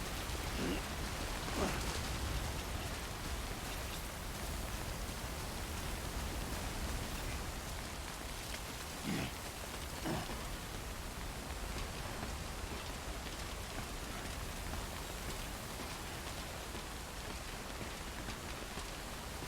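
Timefall rain in the video game Death Stranding falls as a steady, even hiss of heavy rainfall, with a few louder splashes now and then. It continues unbroken throughout, with no one talking.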